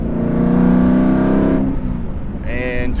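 Aston Martin V8 Vantage with a Fabspeed X-Pipe exhaust revs hard and close, a loud sustained engine roar that drops off after a moment, followed by a rising whine as it revs again.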